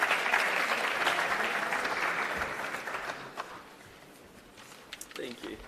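An audience at a youth trade convention applauds the panelists, a dense burst of clapping that fades after a few seconds into scattered claps and a voice speaking.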